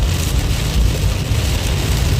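Heavy rain falls steadily on a road during a Kansas storm, a dense, loud hiss that continues without a break and has no voices over it.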